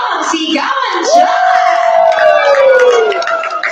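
Wedding guests erupt in loud cheering and whoops, a long rising yell cutting over the crowd's roar, close and sustained.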